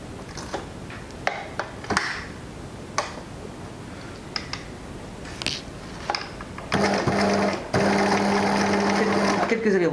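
Sewing machine straight stitching elastic onto a fabric face mask: short bursts and clicks at first, then a sustained rapid whirring run toward the end, close and clear.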